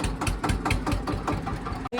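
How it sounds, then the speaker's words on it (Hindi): A tractor rumbles slowly ahead along a rutted farm track among rice fields, its engine a steady, rhythmic chugging throb that stays close and fairly even throughout. "आगू आगू एक ट्रैक्टर जाते वो धीरे धीरे है"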